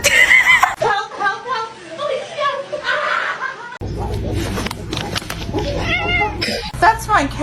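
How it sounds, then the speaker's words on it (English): A pet cat meows loudly and repeatedly in an indoor home setting, close to the microphone, mixed with people talking and laughing around it. "That's my cat."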